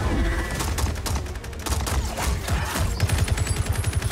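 Dense video-game gunfire from Mortal Kombat 11, rapid overlapping shots in a sustained fusillade with bursts of machine-gun-like fire, loud and continuous with a busy mix around it.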